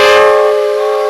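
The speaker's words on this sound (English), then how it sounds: "Then they heard a whistle." A steam train whistle sounds once, loud and close: a single sustained, bright tone about a second long that fades slightly at the end.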